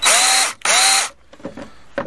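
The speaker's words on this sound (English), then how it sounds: "narrow angled head drill." Two loud bursts of a narrow angled head power drill whirring up and spinning down, followed by quieter clicks and handling noises.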